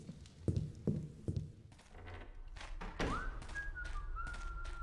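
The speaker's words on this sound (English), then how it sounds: "Just whistling away." A game character in a Thief fan mission whistles a soft, wavering tune that begins after a few dull thumps and continues faintly in the background.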